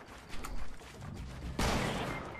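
A sniper rifle shot in the video game Fortnite, one sharp loud crack that rings briefly, following a quieter burst of game noise.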